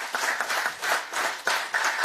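Brief applause from an audience at the inauguration of an Indo-American chamber chapter in Goa after the Chief Minister's speech, a dense patter of clapping with a few louder swells.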